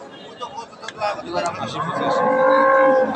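A cow moos loudly and close at a busy cattle market, the call rising and holding near the end, with people talking in the background.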